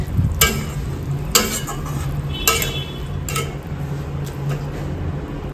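Banana flower curry cooks in a pan with a soft, steady sizzle, broken by a few sharp clinks and scrapes of a utensil against the pan at irregular intervals.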